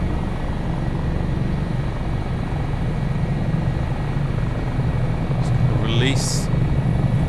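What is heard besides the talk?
HH-65 Dolphin helicopter flying in Microsoft Flight Simulator 2024 video game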